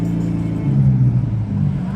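A matte silver Lamborghini SV Roadster with an aftermarket exhaust pulling away in a city street, a loud low engine rumble rising and swelling steadily throughout.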